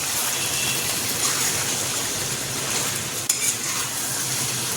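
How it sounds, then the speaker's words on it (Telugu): Chicken fry with garam masala stirred in a hot pan over high flame, a continuous crackling sizzle with scraping spoon strokes and a brief clatter partway through, no voices. "ఇప్పుడు బాగా ఒకసారి కలుపుకుందాం."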